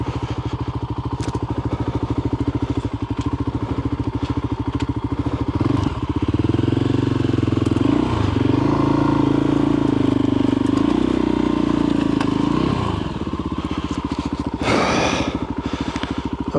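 A crashed Voge 300 motorcycle engine idles in a steady close chug, then rises in pitch as it pulls away in first gear on a slippery surface before settling back, with clattering thumps along the way.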